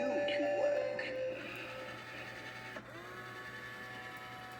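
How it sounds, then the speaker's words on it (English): Loud, steady mechanical motor hum with whirring harmonics from an SVI 2021 Queen of the Underworld animatronic Halloween decoration, close up and continuous, with a brief click midway and a faint voice at the start. "Very loud motor."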